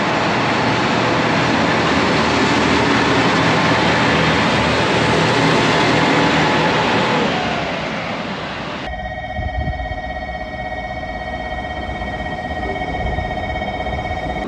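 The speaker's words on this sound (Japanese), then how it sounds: "それでは列車が到着しましたんで乗り込んでいきましょう" A train rumbles into Oita Station in Japan with a loud, broad roar that fades as it slows, followed by a steady electronic tone and quieter station hum.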